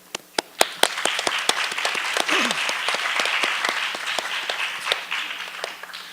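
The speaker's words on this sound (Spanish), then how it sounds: "Un fuerte aplauso." An audience applauds a speaker at an academic forum on China–Latin America relations, starting with a few sharp isolated claps that swell into sustained, moderately close group clapping.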